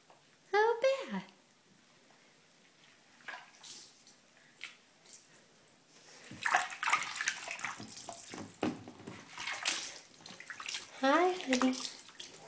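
Water splashes and sloshes in a child's bathtub in bursts of varying strength, with a voice and an adult's voice heard between the splashes.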